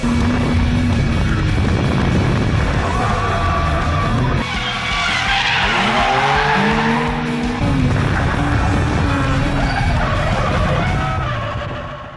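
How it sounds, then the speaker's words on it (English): A Nissan A31 Cefiro with an RB20DET engine drifts at night on Ebisu North Course, with loud, sustained tire squeal and wavering screeches over a roaring engine, continuous and close, fading slightly at the end. "At night we are drifting North Course."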